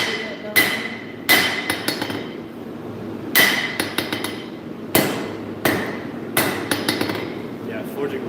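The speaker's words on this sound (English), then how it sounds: "forging one knife at a time for a batch of 16" A hammer forging a knife, with sharp ringing metallic strikes in irregular bursts, often in quick double or triple hits, over a low background of talk.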